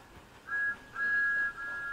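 Single steam-style train whistle in the Sodor Simulator video game, a steady tonal blast sounding in two or three short bursts, moderately loud over a quiet background.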